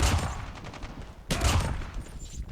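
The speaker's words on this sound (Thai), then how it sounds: "โอ้มันลูกซองยิงเลย" Shotgun blasts in Call of Duty Mobile Hardpoint mode, two heavy close reports about a second apart, each with a booming low tail, amid ongoing match noise.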